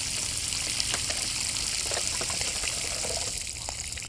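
Water pouring onto and trickling through a porous mound of stones, a steady gushing wash with small splashy bursts, continuous and fairly close with no voices.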